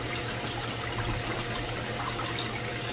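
Water circulates and trickles steadily in a blue bowl gold concentrator at a gold camp, a constant close rushing wash with a faint low hum beneath.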